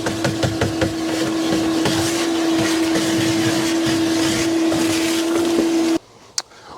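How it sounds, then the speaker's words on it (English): A steady, loud vacuum motor whine drones for about six seconds with scattered rattling and clatter of debris inside a 1951 Buick Super, then cuts off abruptly, leaving a brief click. "now all we have to do is hit it with the old vacuum, get the rest of the debris out of there."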